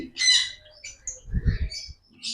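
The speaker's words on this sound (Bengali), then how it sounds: "এখানে আছে lutino fisher black eye lutino fisher black eye পেয়ে যাচ্ছেন মাত্র এক হাজার টাকা পেয়ার" Lutino black-eyed Fischer's lovebirds give a few short, bright chirps and squawks close by, in brief bursts separated by gaps.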